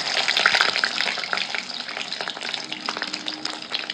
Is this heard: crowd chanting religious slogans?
no